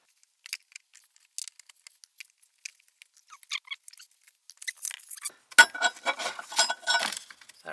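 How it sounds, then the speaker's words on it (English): Plastic trim clips are pried out of a Subaru BRZ's rear interior panel, giving scattered faint clicks and scrapes that grow into a louder cluster of snaps and rattles near the end, with no talking. "So let's pop these clips out."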